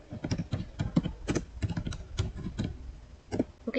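Commands are typed on a computer keyboard while configuring a MikroTik router: rapid, irregular, close-up keystrokes clatter throughout with no talking.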